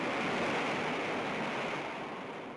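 Heavy typhoon winds and ocean waves batter an aircraft carrier deck at sea, a continuous broad roar of surf and wind that stays steady and fairly loud and fades slightly toward the end, with no voices.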